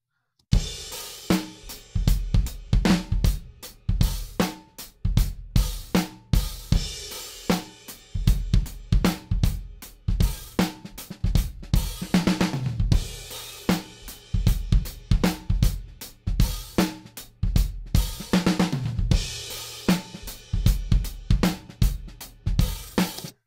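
A full drum kit with snare, kick and cymbals plays a steady groove, processed to reduce leakage between the individual drum microphones; hits are close and punchy with no talking.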